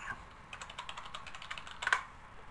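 Quiet, close typing on a computer keyboard, a quick run of light irregular keystrokes with one slightly louder cluster of clicks near the end, alone without talk.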